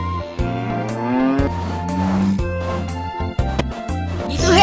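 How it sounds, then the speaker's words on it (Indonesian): A cartoon cow moos in a children's video game, several drawn-out low moos in a row with game effects mixed in, loud and close, with no talk. "Sapi itu sedikit kesal."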